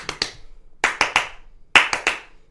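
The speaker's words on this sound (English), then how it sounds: "third exercise will be clapping 3 notes per beat" Close, sharp hand clapping in a rhythm exercise, grouped in quick bursts of three claps per beat with short gaps between groups, no talking.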